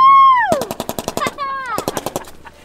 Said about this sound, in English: Watch how much this gun shakes you.